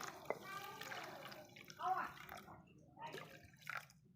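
Water trickles and splashes into a bowl of basil seeds in short pours, soft and close, with a voice speaking over it.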